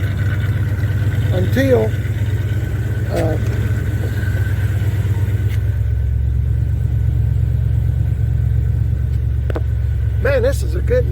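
A 1978 Chevrolet C10 pickup engine runs steadily nearby, a loud, constant low rumble filling the whole clip while someone talks over it.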